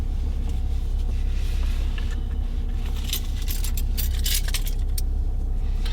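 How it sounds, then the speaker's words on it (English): A car key goes into the key slot of a BMW with jingling, clicking metal sounds, close by, over a steady low rumble. "I'm putting the key into the slot"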